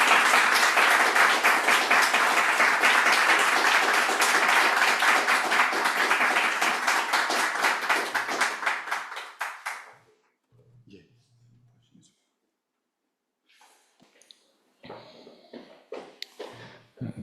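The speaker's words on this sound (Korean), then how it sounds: "저희 강사님 모실 때 큰 박수로 환영하도록 하겠습니다." An audience at a church lecture bursts into loud applause to welcome the guest speaker. The clapping is sustained for about ten seconds, then fades out, and sparse quiet talk follows.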